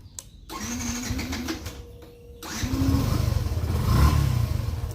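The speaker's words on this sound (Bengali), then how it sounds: "তখন হচ্ছে আমরা ইঞ্জিনটা স্টার্ট করি" A Yamaha FZ-S V3 motorcycle engine cranks with a starter whine, catches and settles into a steady idle that swells slightly, recorded close up with no talking.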